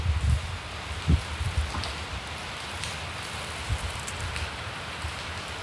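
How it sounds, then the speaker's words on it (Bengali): Steady rain pours down outdoors on a May day, a dense even hiss of drops on surfaces with a few heavier thuds and soft rustling leaves. "দেখুন কত সুন্দর বৃষ্টি"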